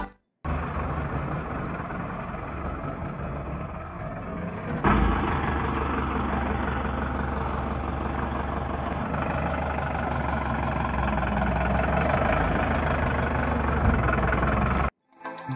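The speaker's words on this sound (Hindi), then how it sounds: "तो हम गाड़ी पे चेक करेंगे कि जो आइडल हमने सेट किया वो" A Tata 709 BS3 diesel truck engine idles steadily after an idle RPM adjustment, producing a continuous low rumble close by that lifts slightly in level partway through and holds even with no talk.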